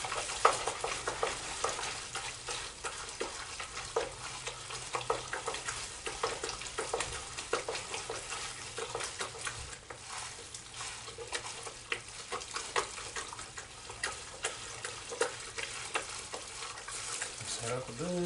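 A mixing spoon stirs a pot of chili, with soft scraping and wet sloshing over a faint background sizzle, continuous and close.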